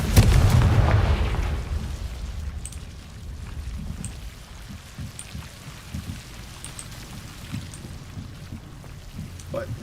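Confringo fire-spell explosions in the video game Hogwarts Legacy: a loud booming blast at the start that rumbles away, followed by scattered crackling impacts and low thuds in a dim game ambience.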